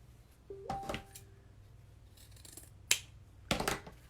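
Scissors snip ribbon ends in a quiet room, giving a few sharp separate cuts with short pauses between them.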